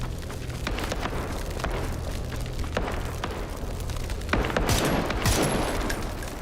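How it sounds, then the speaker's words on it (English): Gunfire heard from a played video: a continuous barrage of cracks and rapid bursts over a dense roar, with heavier volleys toward the end. "What is he shooting at?"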